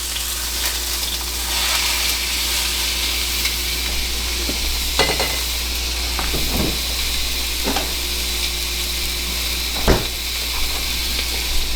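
Venison sirloin sears in a frying pan with a loud, steady sizzle and hiss, close up, broken by a few soft clicks and scrapes of stirring.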